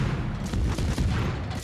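Naval guns from a World of Warships battle thud in a heavy, continuous rumble of booms over the game's ambient noise.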